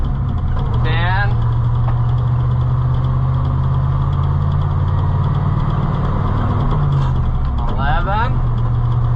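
An old pickup truck engine drones loudly and steadily, close by, as it works through its gears, with brief rising whines near the start and end.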